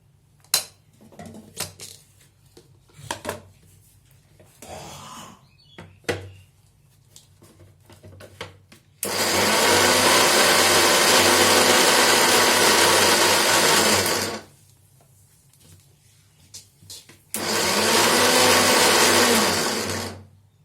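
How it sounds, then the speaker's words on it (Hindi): Mixer grinder whirring loudly as it grinds soaked chana dal in its jar, running in two long bursts of several seconds each, with clinks and handling noises between them. "अब इसे जार में डाल के पीसते हैं। आधा आधा कर लेते हैं, 2 बार में पीसते हैं।"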